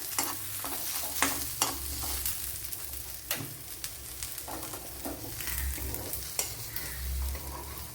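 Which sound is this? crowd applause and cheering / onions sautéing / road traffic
onions sautéing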